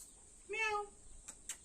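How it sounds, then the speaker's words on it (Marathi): A pet cat of an English breed lets out one short, clear meow close by, followed by a couple of faint clicks against quiet room noise. "तुमची मांजर कुठं आणले"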